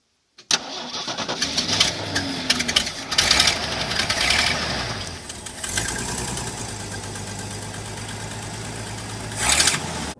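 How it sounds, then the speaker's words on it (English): A 1974 Ford F-250 truck engine with an exhaust leak cranks and catches, then settles into a steady idle with a ragged, puffing exhaust; a couple of louder revs break in, no talking. "You can see how bad the exhaust leak was here."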